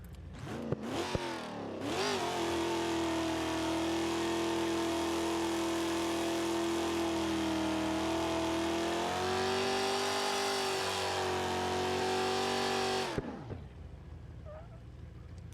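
Car engine in the BeamNG.Drive driving game revving hard and holding a loud, steady high-rpm drone for about eleven seconds after a few short blips, then cutting off abruptly.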